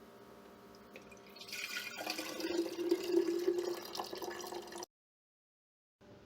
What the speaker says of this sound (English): I'm going to pour the apple juice into a mason jar.